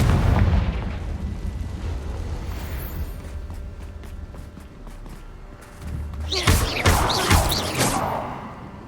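Confringo fire spell explosions in Hogwarts Legacy, a burst of loud blasts and crackling around the six-to-eight second mark over steady game ambience, with fainter pops before.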